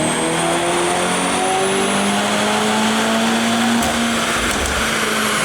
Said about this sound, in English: Here's the dyno run with the JB4 installed and set to map 0.